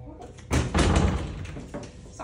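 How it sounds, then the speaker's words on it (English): A door swings shut with a solid thump in a room where an event with a judge is getting underway, then muffled room noise and murmuring voices continue afterward. "Close this door."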